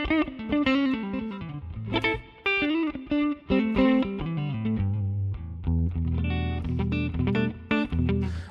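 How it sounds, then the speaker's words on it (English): Amplified electric guitar through a Fender Twin amp model on a Fractal FM3, with a clean, bright tone and light effects, playing chords and short phrases up close. "this is the sound of the Fender Twin"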